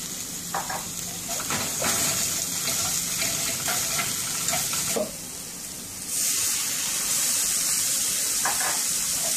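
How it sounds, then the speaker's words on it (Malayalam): Water pours into a hot pan of oil while spicy fish fingers cook, giving a soft, steady hiss and sizzle that dips briefly midway before continuing. The sound is fairly quiet throughout. "കുറച്ച് വെള്ളം ഒഴിച്ചു."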